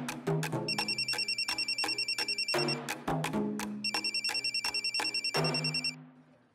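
A telephone rings in repeated bursts of fast electronic trilling, loud and close, with short pauses between the rings and no talking over them.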